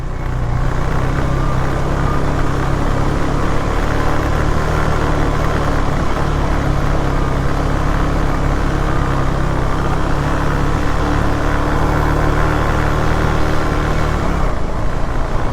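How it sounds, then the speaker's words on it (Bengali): Motorcycle engine running steadily while descending a steep, rough concrete hill road on a North Bengal ride, a loud continuous low drone with road rumble, unbroken and close, ending abruptly. "বাইকের একটু এক্সট্রা নয়েজ আসবে, কেন কি রাস্তাটা পুরো একদম ড্যাম ঢালাই"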